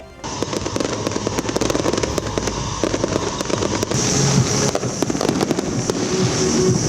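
A New Year's grand fireworks display at Iloilo Freedom Grandstand explodes in rapid, crackling succession, sharp bangs and pops layered over a continuous din of bursts, loud and sustained.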